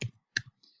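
Computer mouse clicks on a desk, a few sharp isolated taps with short gaps between them, close and fairly quiet.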